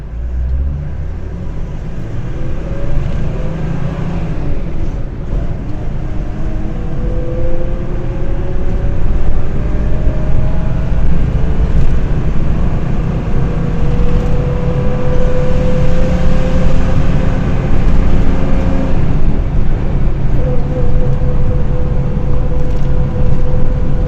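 A local bus drives along a road near the Dead Sea in Jordan, its engine a steady close drone with rising and falling gear tones and constant road rumble, no one talking.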